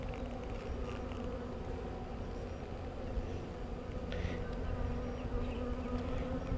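Honey bees buzz in a dense, steady drone at an open hive while a nuc is installed, close and continuous with no voices.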